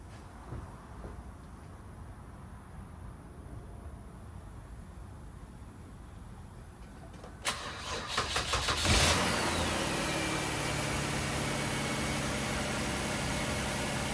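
A 2009 Kia car with a no-charge fault is started with the key: after quiet, the starter cranks briefly, then the engine catches with a loud flare and settles into a steady idle.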